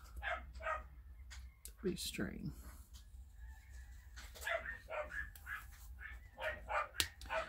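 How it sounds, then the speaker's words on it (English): Pomeranians bark in high, yappy bursts from somewhere nearby, scattered through the clip and mixed with a person talking over a low steady hum. "There goes my dogs again. I am telling you, if the wind blows, they bark. I have Pomeranians and they are yappy."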